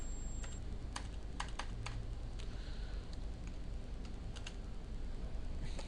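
Keys on a computer keyboard clatter in irregular quick taps and clicks, close and moderately quiet over a low room hum, with no talking.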